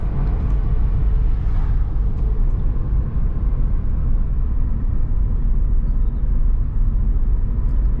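A rental Renault Clio driving on São Miguel island, heard from inside as a loud, constant low road and engine rumble with no talk.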